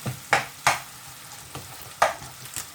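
Chilli chicken curry ingredients cook down in a pan with soft sizzling under a series of sharp stirring scrapes, about six of them spaced irregularly against a quiet background.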